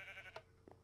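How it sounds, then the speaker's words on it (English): A Minecraft sheep bleats faintly in the game, one short wavering bleat followed by a brief second sound, heard alone over a quiet background. "Oh no, a sheep's gonna drown, I think."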